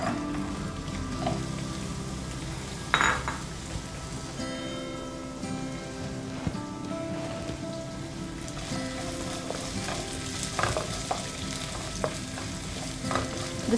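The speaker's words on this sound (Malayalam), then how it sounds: "To this we are going to add in the carrots first." Carrots fry in about a tablespoon of olive oil in a pan, a steady close sizzle with stirring scrapes and a few sharper clinks over about fourteen seconds, no voices.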